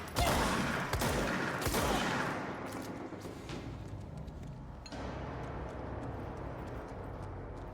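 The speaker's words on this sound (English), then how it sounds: "Shotgun." Shotgun firing in the video game Control: a few loud, sharp blasts, two to three close together early and another a few seconds later, over a low ambient hum without talk.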